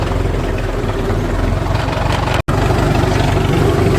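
A tractor engine idles nearby with a steady low chugging rumble, loud and unbroken apart from a momentary dropout.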